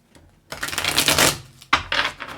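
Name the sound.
shuffling tarot cards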